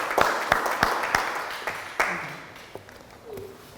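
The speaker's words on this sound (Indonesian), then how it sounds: "kita berikan tepuk tangan untuk kelompok 4" A classroom group claps for the fourth presenting group, several sharp separate claps at first that thin out and fade, with faint murmuring near the end.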